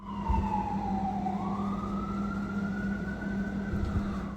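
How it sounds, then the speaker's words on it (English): A wailing emergency siren glides down then slowly rises again, steady and moderately loud over a low engine rumble. "Hold for sirens."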